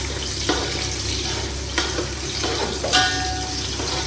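Small, very hot Kerala green chilies go into a frying pan for mutton dum biryani, a continuous sizzle of hot oil broken by a few sharp clinks and stirring scrapes, no talking.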